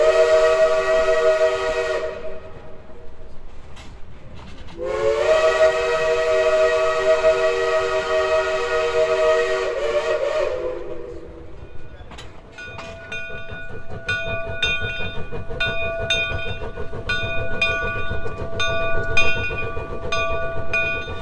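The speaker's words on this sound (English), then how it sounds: "with the echoes of steam whistles in the air" A steam locomotive whistle on the Cass Scenic Railroad's Greenbrier Express sounds two long sustained blasts among mountains, followed by rhythmic chuffing and clanking of the train rolling along.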